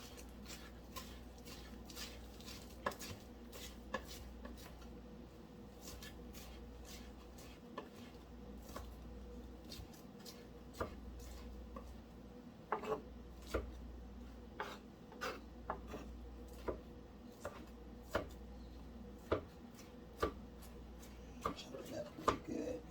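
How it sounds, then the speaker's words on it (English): A knife chopping food on a cutting board while preparing banana nut muffins and egg bites, faint irregular taps and knocks repeating throughout against a quiet kitchen background. "Chop it up pretty good."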